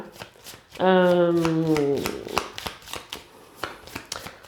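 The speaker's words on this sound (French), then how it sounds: "Et je tire une carte pour savoir" Tarot cards riffle in a quick, loud burst with a brief tonal whir, followed by soft scattered card taps and handling sounds close by.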